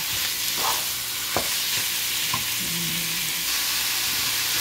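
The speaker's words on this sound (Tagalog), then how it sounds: "so malapit nang maluto yung ating ginigisang karne" Brown meat sautés in a hot pan with a loud, steady sizzle and crackle, and a few scraping stirs and clinks of a utensil come through close up.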